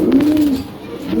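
A pet pigeon gives a close, clear coo, one low drawn-out rolling call swelling in the middle and trailing off with no voices.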